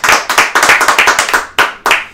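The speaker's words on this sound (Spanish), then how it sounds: "Un aplauso para Alfredo." Hands clapping in a quick, uneven burst of claps from a small group of people, loud and close, for a man named Alfredo after he wins a set of plates and glasses.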